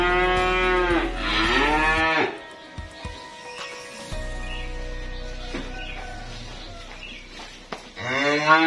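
Young cattle in a pen of calves, including Limousin, let out loud, drawn-out moos close by, one long call at the start and another at the end, with someone talking between them.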